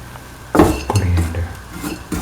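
Onion and fennel mixture spooned into a grinder jar, with a few clear metal-on-glass clinks and scrapes of a spoon at close range, then a short pause and one more knock near the end.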